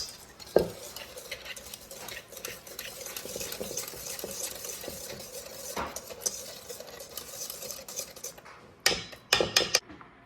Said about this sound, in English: Now I'm gonna whisk it all together.